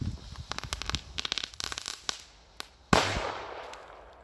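A cluster of small crackling-ball fireworks pops in rapid, irregular snaps, followed by a single sharp firecracker (Böller) bang that decays into a brief hiss, all heard outdoors at a moderate distance.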